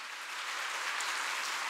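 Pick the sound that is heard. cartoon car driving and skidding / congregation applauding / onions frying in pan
congregation applauding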